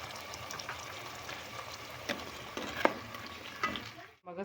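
Frozen ground tomato paste and green chilli go into a frying pan with brain masala, a soft sizzle under stirring scrapes and a few clacks of a spoon against the pan, ending abruptly; no speech.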